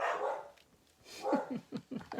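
Pet dogs barking indoors in a home crafting room, a few sharp yaps and short barks in a quick cluster at moderate distance, alone without talk.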